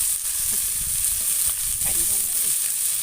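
Chopped onions and green chillies frying in hot oil in a pan, a loud constant sizzle with occasional stirring scrapes and clinks, a voice faintly talking underneath.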